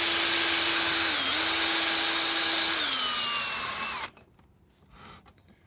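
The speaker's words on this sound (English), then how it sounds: "So we're going to drill a pilot hole." A power drill runs at a steady high whine while boring a pilot hole into a broken bolt, pitch dipping slightly under load before it cuts off abruptly, leaving near silence.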